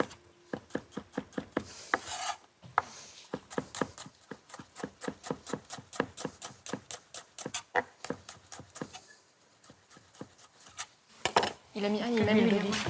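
Garlic cloves are chopped with a knife on a board, a quick, steady run of close, sharp taps that pause briefly mid-way and then resume, with a short burst of talk and clatter at the end.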